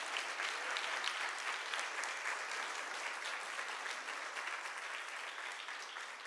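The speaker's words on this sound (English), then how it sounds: "I'm going to big round of applause" A council meeting audience gives a big round of applause, steady dense clapping from many hands filling the room throughout and easing off slightly toward the end.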